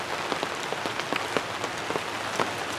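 Steady rain falls outdoors, a constant hiss with scattered sharper drops pattering on surfaces nearby, fairly soft and even throughout.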